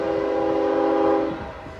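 A double-headed Norfolk Southern ES40DC GEVO intermodal freight train rumbles past close by, its loud, steady drone holding and then easing off as it passes.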